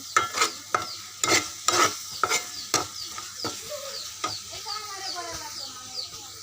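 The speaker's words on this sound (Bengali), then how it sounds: "এখন তেজপাতাগুলো দিয়ে দিলাম এগুলো একটু বাদামি কালার ভেজে নিতে হবে" Bay leaves frying in a pan for a country chicken bhuna, with steady sizzling broken by repeated sharp clinks and scrapes of stirring, close and moderately loud, no talking.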